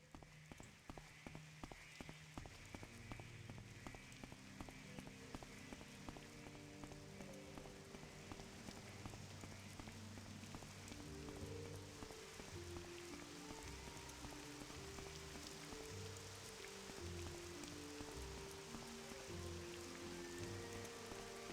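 Steady rain pours in the video game Morrowind, a dense continuous hiss of drops pattering on surfaces, loud and unbroken throughout with no voices over it.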